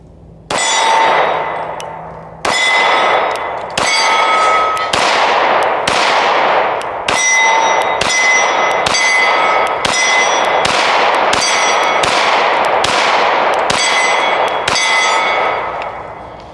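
Rapid string of loud, close gunshots from an FN-510 10mm pistol firing .40 ammunition at a range, about a dozen sharp cracks with ringing tails spaced roughly a second apart, no talk between them.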